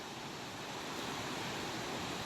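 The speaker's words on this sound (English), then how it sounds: "So I'm going to admire this waterfall for a little while." Bearwallow Falls in Gorges State Park, North Carolina, gives a steady, unbroken hiss and rush of falling water, close and constant, with no voices.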